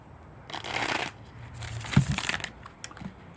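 Tarot or oracle cards shuffled by hand give soft papery riffles and rustles in several close bursts, with a short sharper flick near the middle of the sequence.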